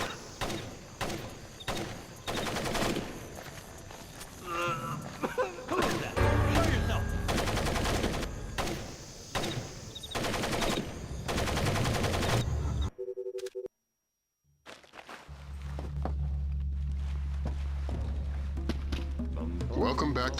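Bursts of rapid gunfire from the stealth video game Splinter Cell Pandora Tomorrow, loud repeated volleys punctuated by thuds and impacts, broken by a brief silent gap, then a lower rumbling background with scattered shots.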